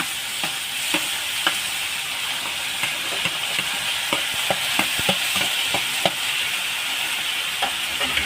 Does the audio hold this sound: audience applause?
no